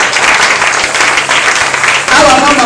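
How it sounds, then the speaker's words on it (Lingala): A church congregation applauds loudly and densely in praise of the Lord, the steady clapping filling the room while a voice speaks over it. "On peut acclamer pour le Seigneur."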